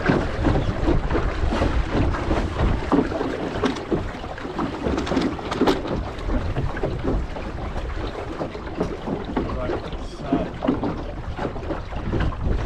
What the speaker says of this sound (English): Wind's kind of beam on at the moment on my port